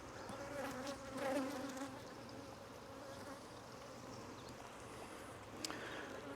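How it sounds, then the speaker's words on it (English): Honey bees swarm over an open hive box full of honey and pollen frames, their buzzing a faint, steady drone with a brief louder swell of nearby wingbeats. "Oh wow, this is a full box of bees."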